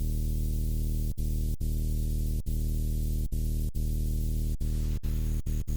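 A sustained synthesized bass patch built in Ableton, a wide stereo sub layered with a white noise layer and wavetable tones, droning steadily with brief sharp dropouts at irregular moments.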